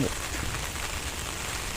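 Heavy early-morning rain pours down in a continuous, hissing patter at a steady, moderately loud level throughout the brief moment.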